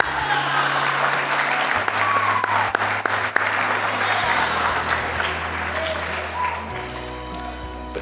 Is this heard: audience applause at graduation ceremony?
yes